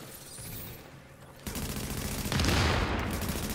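Gunfire from the video game Tom Clancy's The Division, a sustained burst of rapid shots that grows louder and denser partway through, dense and close with no talk.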